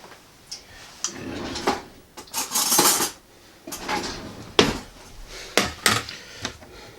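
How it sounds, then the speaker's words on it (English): Pickled eggs chopped for avocado egg salad, a series of irregular close knocks and clatters of a utensil against a dish or board, separated by short pauses. "I'm just going to chop the eggs up"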